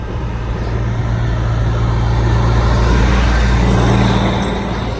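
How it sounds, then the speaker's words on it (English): A truck passes close by on a road, its loud steady engine rumble and tyre roar filling the whole stretch and swelling slightly in the middle before easing off, with no talking. "We got another truck coming."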